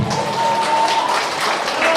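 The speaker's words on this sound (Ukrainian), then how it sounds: "Оплески учасникам" Wedding guests applaud the participants, a short burst of mixed clapping with a sustained tone and voices murmuring underneath.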